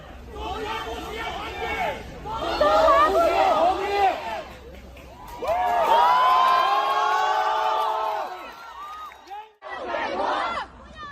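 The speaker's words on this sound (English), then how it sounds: "crowds gathered to demand freedom" A crowd of protesters gathered in a Chinese city chants and shouts together in loud, rising bursts, with cheering and babble between the chants and brief pauses.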